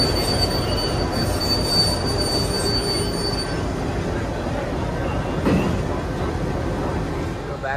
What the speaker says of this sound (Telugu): వెనక్కి వస్తుంది ట్రైన్.